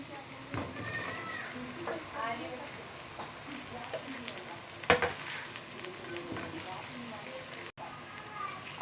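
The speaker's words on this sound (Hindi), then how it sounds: "अब हम इसमें हरी मिर्चें और ये तुरैया डाल रहे हैं।" Green chillies and ridge gourd frying in a hot pan, a steady sizzle with occasional clinks and one sharp knock, while a person talks over it.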